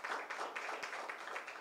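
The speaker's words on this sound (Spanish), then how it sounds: "Denme un aplauso al Señor," A church congregation applauding, a dense, even patter of many hands clapping together, steady and fairly distant for the whole moment.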